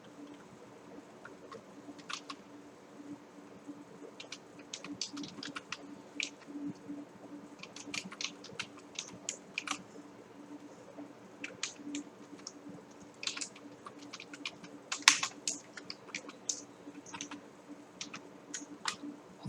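Code being typed on a computer keyboard at a desk, a steady stream of light, quick key clicks in irregular bursts over a faint low hum, with no talking.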